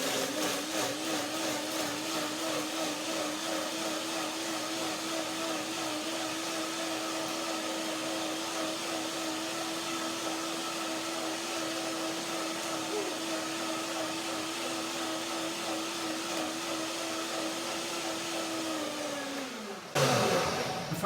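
A blender whirs at a steady high-pitched drone for about twenty seconds while breaking down cashews and water, then abruptly shuts off.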